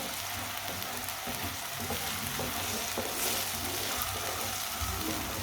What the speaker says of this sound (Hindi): 2 मिनट के लिए पका लेंगे टमाटर को भी।